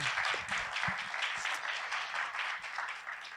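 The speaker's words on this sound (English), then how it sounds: "Please give her a round of applause." Steady audience applause at a civil rights commemoration event marking the anniversary of the I Have a Dream speech, a dense wash of many hands clapping throughout, fairly distant and even in level with no voices.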